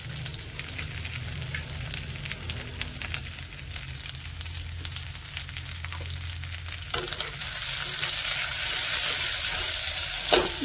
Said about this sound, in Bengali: এবার আমি সামান্য একটু ঘি দিয়ে দেবো